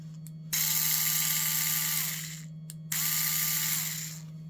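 A Dremel Versa lithium-ion power scrub brush motor whirs steadily in two bursts, each starting abruptly, holding a high buzzing tone and then winding down, with a steady low hum beneath and no talking.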